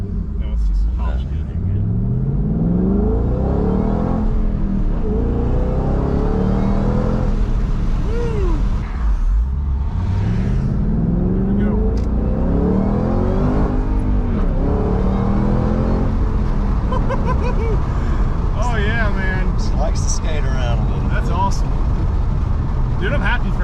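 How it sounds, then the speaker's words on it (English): A supercharged Ford Mustang GT500 with a Flowmaster exhaust revs and accelerates in repeated rising and falling sweeps, loud and close, with a supercharger whine building under the engine as people talk over it. "you can hear it when the supercharger starts picking up, just the extra power it's pushing down"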